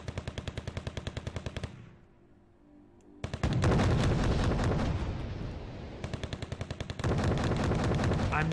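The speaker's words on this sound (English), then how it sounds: "heavy tanks are now shooting at him" Heavy tanks and infantry fighting vehicles firing in the real-time strategy game Wargame: Red Dragon: rapid rhythmic autocannon-like bursts, a short lull, then loud booming cannon blasts and rolling explosions before the steady rapid fire resumes.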